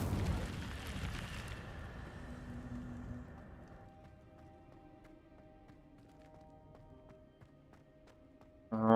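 A fire spell cast in Hogwarts Legacy bursts out with a loud, dense roaring whoosh for the first few seconds, then dies into a quieter crackling tail. A sharp, bright burst closes it at the very end.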